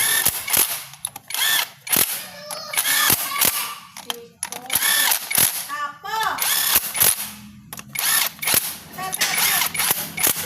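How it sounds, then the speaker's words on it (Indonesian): Short bursts of an impact wrench tightening a fastener on a Yamaha Jupiter Z1 motorcycle, with repeated sharp rattling hits and mechanical clicks close by, no talk. "Langsung kita kencangkan gunakan impact."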